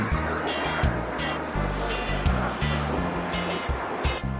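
Shallow river water flowing through a pool-like stretch of a stream near a waterfall in Bentong, Pahang: a continuous, fairly loud rushing wash with low rumbling underneath.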